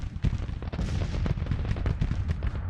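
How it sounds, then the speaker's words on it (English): Rapid, dense artillery bombardment in the Civil War strategy game Grand Tactician, with overlapping booming shots firing continuously and loudly, no voices over them. "I would very much like you to bombard this area here."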